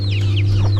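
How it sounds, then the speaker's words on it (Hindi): Chickens clucking in Jakhama village, Nagaland, sharp short calls over a steady low hum, close by and fairly loud, with no talking. "हेलो, मुर्गी हैं मुर्गी हैं।"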